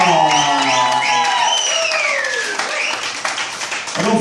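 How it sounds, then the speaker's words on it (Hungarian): Concert crowd applauding a stand-in bassist: dense clapping mixed with cheers and whoops from the audience, running steadily throughout, with voices shouting over it. "Nagyon nagy tapsot kérek beugró basszusnak"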